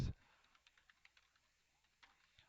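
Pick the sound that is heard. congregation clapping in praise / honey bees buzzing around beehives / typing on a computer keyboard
typing on a computer keyboard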